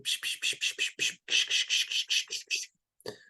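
A person makes rapid hissing pishing bursts, about a dozen in a steady rhythm, imitating a bird alarm call, followed by a pause and one short final burst; close and fairly loud with no other sounds.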